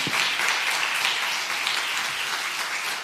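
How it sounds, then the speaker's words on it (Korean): Congregation applauding in a church service after a testimony about a short-term mission trip; steady dense clapping fills the room, fairly loud and even throughout with no one speaking. "네, 박수 해주세요."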